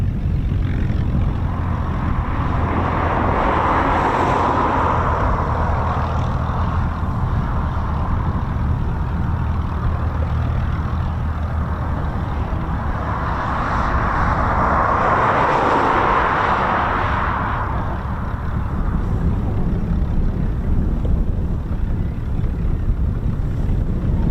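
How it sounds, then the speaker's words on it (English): Griffon-engined, five-bladed photo reconnaissance Spitfire PM631 of the Battle of Britain Memorial Flight at RAF Coningsby flying past: a loud, continuous propeller-engine roar that swells twice as the aircraft passes, with wind buffeting the microphone throughout. "it's a Spitfire. That is a Spitfire."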